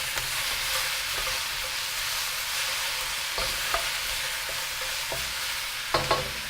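Chicken and vegetables stir-frying in an oiled non-stick wok give a soft, steady sizzle, punctuated by intermittent scraping stirs and a couple of sharper knocks near the end, with no talking.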